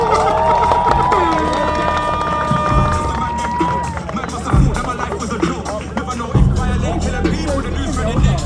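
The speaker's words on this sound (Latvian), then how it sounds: "ovācijas tur bija" Crowd cheering and applause at an outdoor motorsport challenge event at Priekule airfield, a loud, steady roar with rising engine-like tones early on and sharper bursts of noise near the middle and end.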